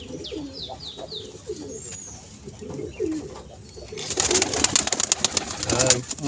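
Several soft pigeon coos repeat near the mic over the first four seconds, then a burst of louder, broadband rustling and scuffling noise takes over.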